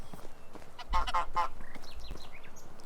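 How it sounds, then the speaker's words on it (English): Geese honk in the medieval farming game Medieval Dynasty, with a short burst of three or four nasal calls at moderate distance over a steady outdoor ambience. "There are geese."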